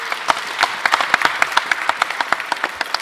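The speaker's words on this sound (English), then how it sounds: "Give them a round of applause." An audience claps at a Philadelphia MLK Day of Service news conference, a short round of brisk, evenly spaced claps from a modest group that lasts about three seconds and stays fairly close.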